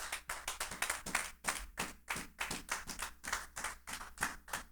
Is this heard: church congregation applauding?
yes